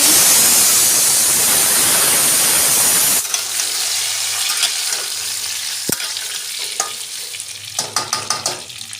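Bay leaf and panch phoron sizzle loudly in ghee and white oil in a kadai, a dense frying hiss for the first few seconds, then dropping to a quieter crackle with scattered pops and stirring clinks.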